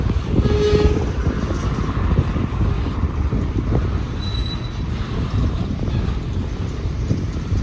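A Norfolk Southern freight train with auto racks and a rear DPU rolls past on CSX tracks, a steady broadband rumble of wheels and cars close by, buffeted by wind noise on the microphone throughout.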